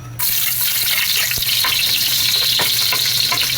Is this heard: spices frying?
yes